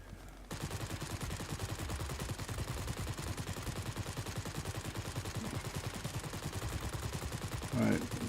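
Aircraft machine guns fire in a World of Warplanes night dogfight, a steady rapid stream of loud bursts starting after a brief quiet moment and continuing almost unbroken to the end.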